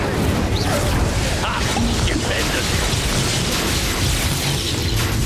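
Fire spell cast in Hogwarts Legacy during combat, a loud sustained roaring blast with booming, crackling bursts that fill the whole stretch, with faint voices underneath.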